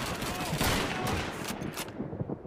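Gunfire from the Call of Duty 2 video game crackles in a dense, sustained burst of shots that fades toward the end, moderately loud with no voices.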